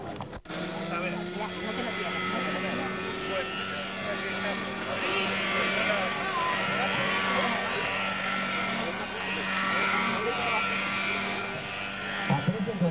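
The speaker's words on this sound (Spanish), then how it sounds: "Aprecien con atención todo el desarrollo de esta acrobacia con el helicóptero" A radio-controlled model helicopter flies aerobatics at a model aviation centre, its steady whining rotor and engine drone running loud and continuous throughout, with a commentator's voice over it.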